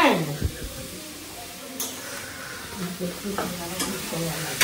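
Cauliflower and potato curry frying in a home kitchen pan, giving a steady close sizzle and hiss with occasional scraping stirs, while a voice talks over it now and then.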